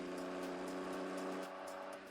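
A damaged car engine in the Roblox video game runs as a steady, continuous droning hum, fairly loud and even throughout, with no talking.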